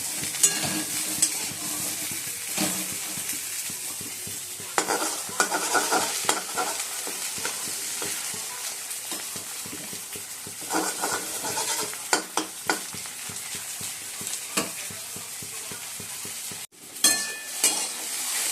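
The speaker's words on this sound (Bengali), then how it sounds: "আর এদিকে ফুলকপি ভাজা হচ্ছে।" Cauliflower fries in a pan with a steady, crackling sizzle and occasional stirring scrapes and clinks, no voices, running continuously with a brief dip near the end.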